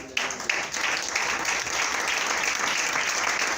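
Sustained applause from a church congregation, a close, even roar of many hands clapping that keeps going without a break.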